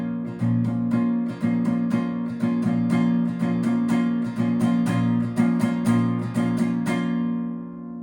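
A steady Andean San Juanito, or yajecero, rhythm plays with repeated plucked notes and regular accented beats, bright and clear with no voices.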